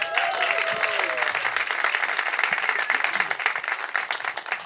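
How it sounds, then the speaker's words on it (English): Sustained audience applause and cheering for a panel of leading female chefs at a San Antonio culinary event, dense steady clapping with a few whoops, loud and close throughout. "So a big round of applause for them."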